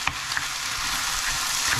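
Abalone with its innards being stir-fried in a pan, a steady close sizzle with a few light scraping clicks, no talking.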